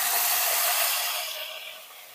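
Boiled chicken pieces dropped into hot oil for frying, a loud dense sizzling hiss that gradually eases and softens, with no voices.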